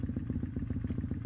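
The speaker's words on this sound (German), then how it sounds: "habe ich dann gehört, dass mit Ihrer Auspuffanlage auch so einiges im Argen ist, Herr Schmidt" A motorcycle with a faulty exhaust system rumbles close by, its low engine note pulsing in a rapid, uneven popping rhythm that stays fairly loud throughout.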